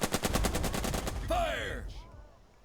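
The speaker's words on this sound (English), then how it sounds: "And then we'll shoot them with this tank as well, just for good measure." A tank fires on enemy troops in the wargame Burden of Command: a fast, loud burst of rapid machine-gun fire, then a whooshing sweep and tail that fades to quiet.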